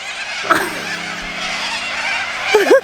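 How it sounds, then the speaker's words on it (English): A flock of cockatoos at a Murray River free campsite calls with harsh, honking screeches, a steady busy chorus with sharper squawks standing out near the start and again at the close. "I feel like I'm in a cockatoo sanctuary."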